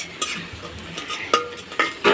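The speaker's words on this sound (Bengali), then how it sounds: "পেঁয়াজটা ভাজা হোক," Onion fries in oil left from fried fish on a wood-fired stove, giving a soft steady sizzle with irregular clinks and scrapes of a utensil against the pan, heard close.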